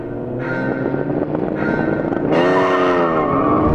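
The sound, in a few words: Japanese GT cars starting a race, including Honda NSX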